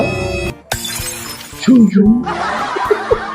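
A car windscreen shatters with a loud, sharp crash of breaking glass, followed by tinkling debris, with people chuckling and talking around it.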